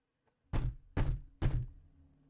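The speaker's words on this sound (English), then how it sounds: "I wake up to the sound of one of the guards banging on the door" A guard bangs on a door in Synergia with three heavy, evenly spaced thuds about half a second apart, loud and close, each booming briefly before fading into near silence.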